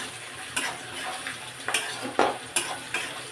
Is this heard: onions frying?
yes